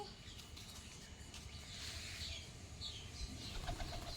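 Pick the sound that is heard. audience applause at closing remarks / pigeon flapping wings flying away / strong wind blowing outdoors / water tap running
pigeon flapping wings flying away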